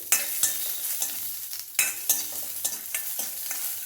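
Garlic, green chilli and peanuts sautéing in a pan for mint tomato chutney, a continuous bright sizzle broken by repeated scraping stirs, close and with no voices.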